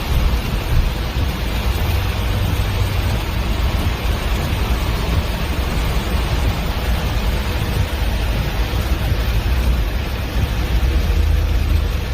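Steady, dense hiss of heavy rain pouring without letup, loud and close, with a low rumble underneath, during an extreme flooding downpour in Kerr County.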